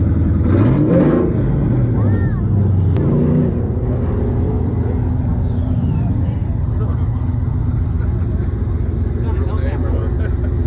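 A revived Ford F350 truck with a 460 big-block V8, sitting for years, idles in a deep, steady rumble throughout, nearby and loud, with voices briefly over it early on.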